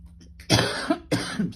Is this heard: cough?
yes